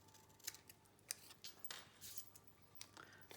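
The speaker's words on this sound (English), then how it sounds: "I'll just snip the ends off with the scissors." Sharp, quiet scissor snips cutting the overlong paper ends of a handmade box card with a drawer, several irregular clicks spread through an otherwise still room.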